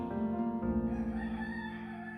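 A rooster crows in one long drawn-out call at the Pazhayannur Kozhiyambalam temple grounds, where chickens roam free. The call is fairly close and steady, with no voices.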